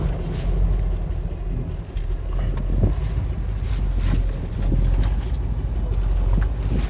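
1969 Chevrolet Camaro Z28 on the road, heard from inside as a steady loud rumble of engine and road and wind noise with slight surges, no clear revving peaks.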